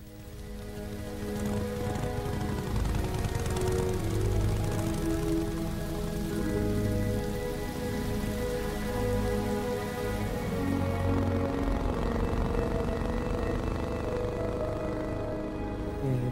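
Staged rain effect on a film set, a dense, steady patter of water falling and splashing on surfaces, loud and continuous throughout, with a faint low hum and no speech.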